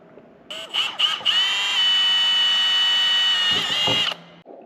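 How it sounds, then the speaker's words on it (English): A power drill whines steadily for several seconds, high-pitched and close, drilling into plastic, with a few brief starts and stops before and after the sustained run. "I'm gonna drill into the plastic now and try to fit this up."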